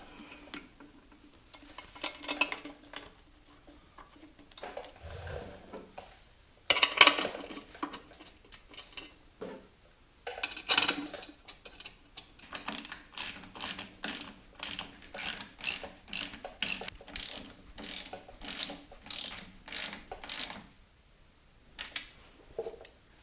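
A ratchet wrench tightens bolts on a Caterpillar D2 diesel engine during assembly, fitting the front cover: quiet bursts of rapid clicking come close up and alone, growing into a long, even run of ratchet strokes.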